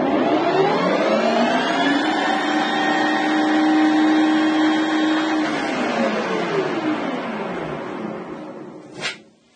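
Metal lathe (M300) spinning at its top 2500 RPM speed: a loud, steady mechanical whine with layered harmonic tones that holds, then winds down as it slows, ending with a brief clunk near the end.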